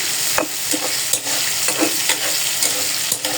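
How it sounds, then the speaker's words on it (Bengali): Small shrimp fry in a pan with a loud, constant sizzle, close up, as a utensil stirs them in quick repeated scraping strokes; no voices. "মোটামুটি ভাজা হয়ে গেছে মাছটা।"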